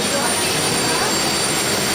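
Loud, steady roar of a jet airliner's engines heard close by while boarding a plane to Poland, a constant broadband drone filling the whole moment, with faint voices nearby.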